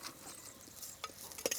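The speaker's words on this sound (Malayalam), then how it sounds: "ഇനി ഈ എണ്ണയിൽ തന്നെ നമുക്ക് 1/2 കപ്പ് തേങ്ങ ചെറുതായിട്ടൊന്ന് വറുത്ത് ഒരു ചെറിയ ഗോൾഡൻ കളറാവുന്നത് വരെ വറുത്തെടുക്കാം." Grated coconut roasting in oil over low heat for a papaya curry, with soft stirring scrapes and faint sizzling, closing in a few sharper clinks of a spoon against the pan.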